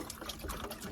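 Water is poured into a pet rabbit's supply on a homestead: a short, faint, splashy trickle lasting under a second, with no voices.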